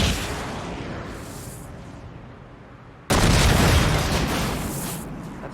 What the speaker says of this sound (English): gradually it ignited the fuel and the ammunition